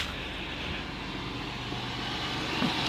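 A GM 3.4L engine runs with a low fuel pressure fault, giving a steady, even mechanical drone with a constant hum and no notable change throughout.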